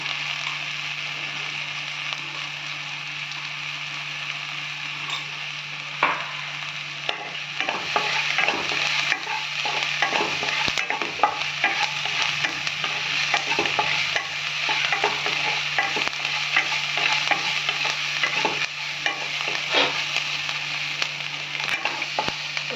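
Paneer sukka sautéing in a pan with a continuous steady sizzle and frequent scraping stirs of a spatula, close and even, a low hum underneath throughout, no one talking.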